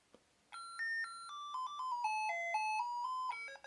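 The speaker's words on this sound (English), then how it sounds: "show the melody number or tune number or alarm ringtone number" A kids' alarm clock plays its electronic ringtone melody, a clear beeping tune of short stepped notes lasting about three seconds, fairly quiet and close with no talking.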